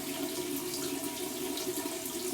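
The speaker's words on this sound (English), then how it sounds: "I'm going to get my alum block here and run it under some cold water." Cold water runs steadily from a tap over an alum block, a soft continuous splashing hiss with no voices.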